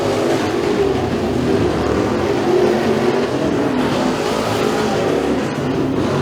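Race cars roar through a heat race at Freedom Motorsports Park, with a continuous, steady engine drone from several cars lapping the track at a middle distance.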